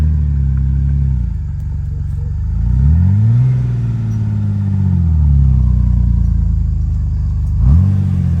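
An off-road vehicle's engine labors up a mountain trail, loud and close, with its pitch rising and falling as the revs climb and drop. A strong rev comes early, another near the end, and a steady drone runs between them.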